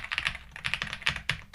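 Quick bursts of typing on an Al80 wireless mechanical keyboard, clustered clacky keystrokes in uneven runs with brief pauses, close and fairly quiet, no talking.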